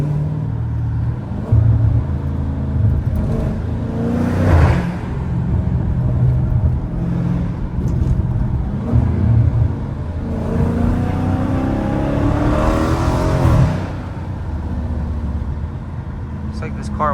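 Dodge Challenger Scat Pack 392 V8 rumbling and revving while driving, with rising engine sweeps around the middle and later, under steady cabin road noise and someone talking over it.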